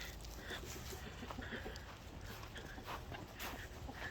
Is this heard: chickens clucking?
yes